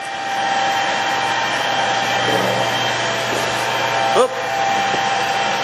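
A Standard Modern 13 x 20 precision lathe, a hardened-way machine of about 2,000 pounds, runs at 900 RPM with a steady, close mechanical hum and whine. A short exclamation cuts in near the end.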